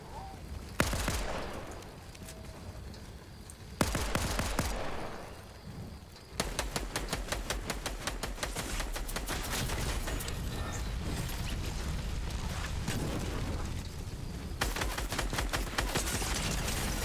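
Gunfire in the video game Fortnite aimed at an NPC: several rapid bursts of sharp, clattering automatic shots, separated by brief pauses and closing with a long sustained volley.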